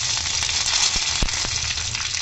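Steady crackling sizzle of mustard seeds, curry leaves and Kashmiri red chili hitting hot oil for a kadhi tempering, loud and close, with a few sharper pops over a continuous frying hiss.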